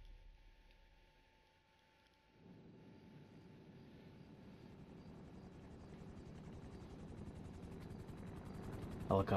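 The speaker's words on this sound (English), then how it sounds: "Helicopter is inbound." A helicopter in the video game GTA 5 approaches with a swelling rotor chop and engine drone, faint at first, then steadily louder and nearer over several seconds.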